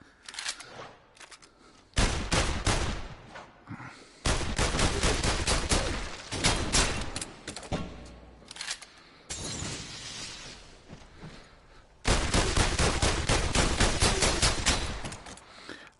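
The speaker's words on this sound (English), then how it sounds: "If I can shoot it, I'm going to shoot it." Virtual-reality gunfire in The Heist PSVR demo, with loud, sustained bursts of rapid automatic shots and shattering impacts separated by brief quieter gaps.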